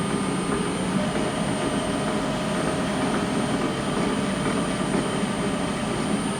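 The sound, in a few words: wood lathe running at about 800 RPM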